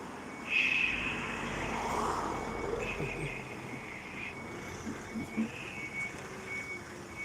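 A van backing out of a driveway on an Adelaide street sounds a steady series of high reversing beeps over a low engine rumble and general traffic noise.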